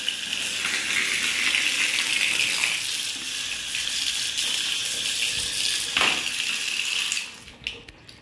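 Water running from a tap into a container for soaking stiff shoes, a steady close splashing flow that stops near the end and is followed by a few small knocks.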